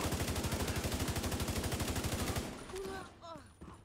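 Automatic gunfire in The Division 2 during a Dark Hours raid: a long rapid burst of evenly spaced shots, loud and close, that stops abruptly and gives way to quieter game sounds.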